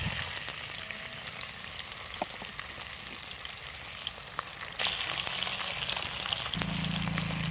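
Kiriraja, a crab, frying with onions and curry leaves in a pan. The sizzle is steady and close, and at the end a louder burst of spatter and bubbling comes in. No one speaks.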